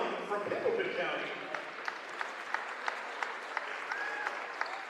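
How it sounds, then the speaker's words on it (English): Crowd applause during player introductions at a girls all-star basketball game in a gym, steady clapping with sharp individual claps standing out, running under an announcer's voice. "Again, let's hear a big round of applause."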